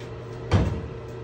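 A janky cleaning-supply cupboard door in a mess hall opens with a single short thump and scrape over a steady low room hum.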